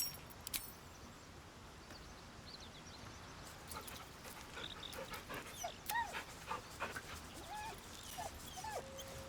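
Scratch, a dog in Baldur's Gate 3, pants and whimpers softly over a faint ambient bed, with a few short high whines toward the end.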